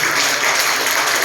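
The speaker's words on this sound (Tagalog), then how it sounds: "Pwede ba natin sabay-sabay talagang malakas sa palakpak sa Panginoon?" A church congregation bursts into loud, sustained applause, a dense unbroken wash of many hands clapping together at close range.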